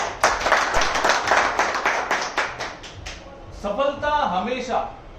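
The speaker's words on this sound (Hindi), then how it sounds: "तो सबसे पहले आप सभी लोगों के लिए तालियां।" An audience claps together at a sales training talk, a short burst of dense hand clapping lasting about three seconds before a voice takes over.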